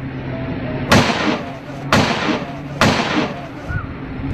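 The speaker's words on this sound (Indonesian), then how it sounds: "Beberapa suara tembakan terdengar memecah keheningan di pagi hari." Three loud, sharp gunshots ring out about a second apart during a morning in Kiwirok, Papua. Each has a sudden broadband crack and a short decaying tail over a low outdoor background hum.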